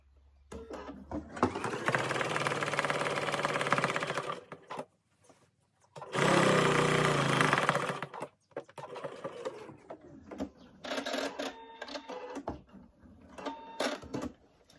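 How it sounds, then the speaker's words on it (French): A domestic sewing machine stitches around a triangle in a quilt block, running in steady buzzing bursts of a few seconds each with short pauses between, close and fairly loud with faint handling noises. "je vais simplement me mettre en bas d'un triangle et je vais coudre tout le tour"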